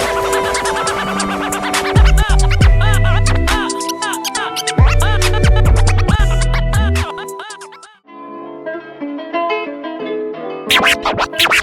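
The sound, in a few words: DJ turntable scratch pattern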